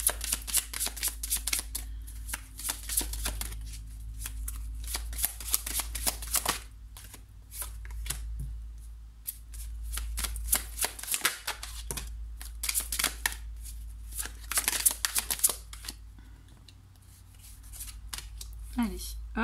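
Slippery playing cards shuffled repeatedly during a tarot-style card reading, giving crisp riffling bursts in several bouts with pauses between them, close and clear, while someone speaks French between and over the shuffles.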